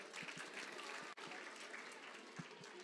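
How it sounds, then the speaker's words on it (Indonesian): Applause from a seminar audience, steady clapping from many hands at moderate level, continuing for a few seconds with a brief dip midway. "Beri tepuk tangan buat Pak Heri"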